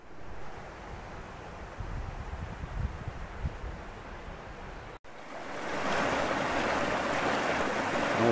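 Small mountain stream flowing through Ardennes woodland, a steady broadband wash of water that grows louder and fuller partway through as the stream is approached, with no voices.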